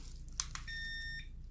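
A timer set while mixing resin for coasters: a couple of quick button clicks, then a single high electronic beep held for about half a second against a low hum.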